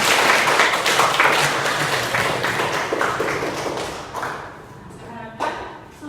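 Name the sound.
students clapping hands in class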